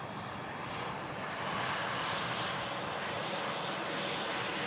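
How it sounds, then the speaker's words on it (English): An Embraer E190 airliner taxis in after a flight from Paris Charles de Gaulle, its jet engines giving a steady, broad roar that swells slightly midway, heard from a moderate distance without voices. "Little Embraer E190 long range coming in from Paris, Charles de Gaulle."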